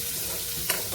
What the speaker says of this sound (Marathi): 1 ते 2 मिनिटं फक्त परतून घ्यायचंय.